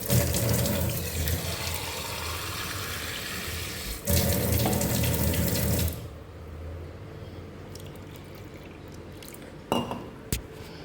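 Water is poured from a tap or vessel into rice flour batter for ghavan in a home kitchen, a loud steady splashing rush for about six seconds, followed by quieter clinks and handling noises.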